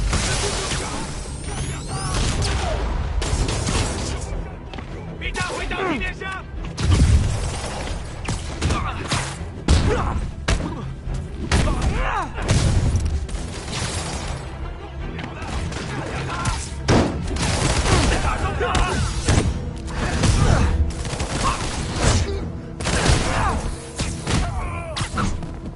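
Dense Spider-Man video game combat with rocket fire and explosions: repeated loud thumps, bursts and mechanical clatter layered continuously over a busy, driving background, with no pauses across the whole stretch.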